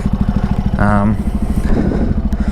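A Benelli TNT 135 motorcycle's small engine idles with a rapid, steady putter close by, while someone talks over it.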